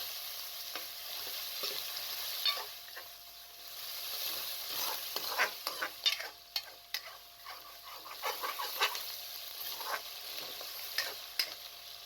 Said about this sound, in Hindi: कीमे को आपने 5 से 7 मिनट तक भून लेना है, ताकि इसका कच्चापन ख़त्म हो जाए